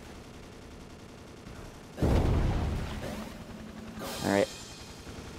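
SMG fire in Ace of Spades: a sudden loud burst of rapid shots that rings out and trails away, followed by a second shorter rattling burst. A voice speaks briefly before the shots.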